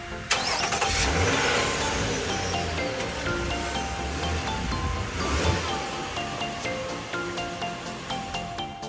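A car engine runs close by as the car is driven up onto ramps for an oil change. It gives a steady mid-pitched hum with light clunks and rattles.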